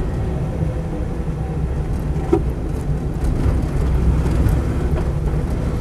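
Land Rover 90 V8 County Station Wagon pulling away through the gears, a steady low engine drone with a slight swell as it builds, heard from close by with no talking.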